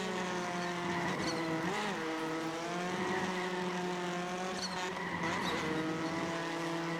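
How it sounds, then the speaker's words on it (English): Touring race car in the iRacing video game, its engine droning steadily at a held pitch with the whistly chirp of a blow-off valve breaking through, continuous and fairly distant, no voices. "This car sounds great. I love the little, like, whistly blow-off valve."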